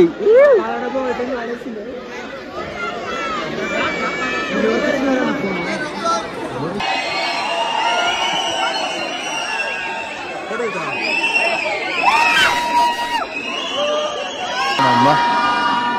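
A lively crowd of many voices shouting and chattering over each other nearby at Guna Caves in Kodaikanal, with children's cries rising and falling throughout.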